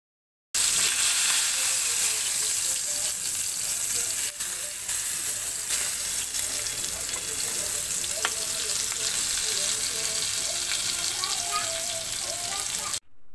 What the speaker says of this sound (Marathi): पुढे तुम्ही बघालच की पापलेटला आपल्या किती छान आवाज येतो आहे.